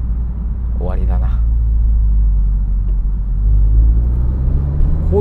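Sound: Honda Civic FK7 accelerating with loud HKS-tuned exhaust

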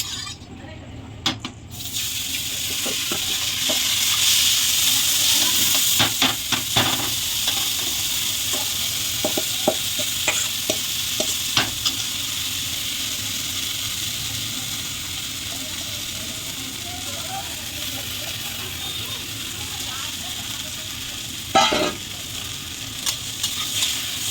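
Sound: washed mung dal frying in oil

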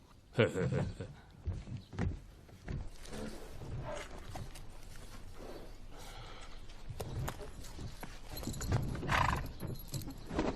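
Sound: horse hooves clip-clopping, carriage being stopped

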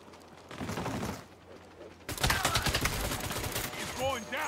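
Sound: gunfire from a gun in the video game Saints Row

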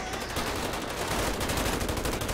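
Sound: gunfire in GTA 5 video game

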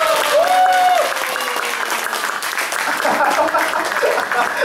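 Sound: concert audience applause

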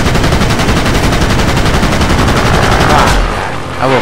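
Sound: warplane machine gun fire in World of Warplanes video game

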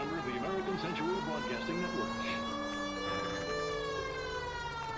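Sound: police car siren in video game L.A. Noire

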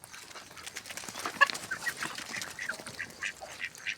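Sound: chickens

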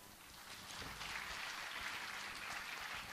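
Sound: audience applauding students at a school annual day

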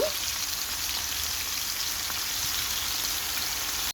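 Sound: chicken pieces frying in oil

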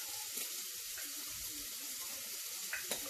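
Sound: onion frying in rendered fat in a pot

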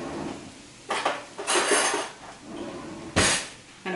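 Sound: fork mixing breadcrumbs with butter in a dish

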